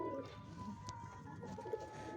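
Pigeons coo softly at a loft tower, low murmuring calls heard faint and somewhat distant over a quiet background.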